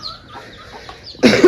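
Hens in a village yard make a short burst of clucking at the very end, after a near-quiet stretch with faint background sound.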